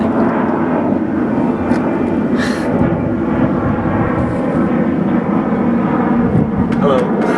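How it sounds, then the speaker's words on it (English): A fixed-wing airplane drones steadily overhead, a broad continuous engine roar holding at a constant loudness throughout, with voices talking faintly underneath. "there's an airplane."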